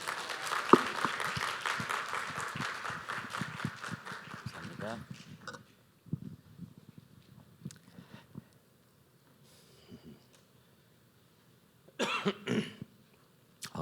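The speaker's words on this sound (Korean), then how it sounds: "제가 기침을 하네요." Applause fades into a quiet church hall during a revival service, then several sharp coughs and throat clearing come in scattered bursts between moments of talk.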